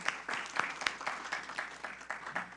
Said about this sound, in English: So let's give a round of applause to all the other groups within our city.